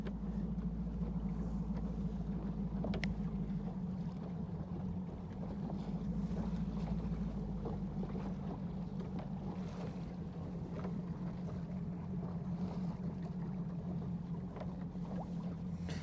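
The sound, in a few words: boat cruising on Lake Guntersville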